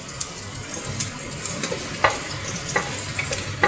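Garlic sautéing in a pan for Kerala-style fried rice, a steady soft sizzle broken by several sharp scraping clicks of a spatula stirring against the pan, heard close with no talk.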